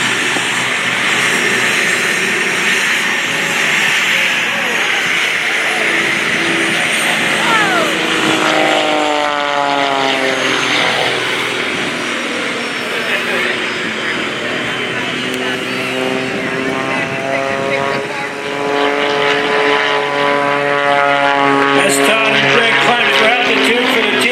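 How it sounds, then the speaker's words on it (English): Aerobatic propeller airplanes fly low over the runway at the 2023 Westmoreland County Airshow, their loud engines droning and shifting pitch as they pass close by throughout. "Once airborne, he'll fly just a few feet off the ground all the way to the end of the runway"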